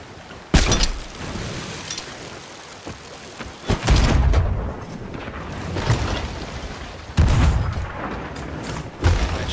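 Heavy booming cannon shots ring out one after another during a sloop versus brig naval battle in a pirate ship game, each blast loud and reverberant, separated by quieter stretches.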